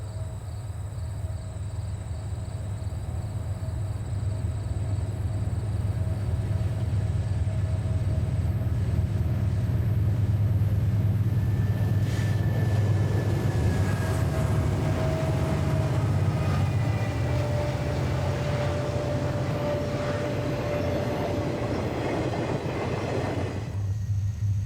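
Santa Fe trains working upgrade out of the Illinois River Valley, a steady loud rumble of moving rail cars with faint tonal squeals and insect chirps in the background, continuous throughout with no talk.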